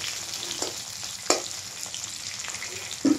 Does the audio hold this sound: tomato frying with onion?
yes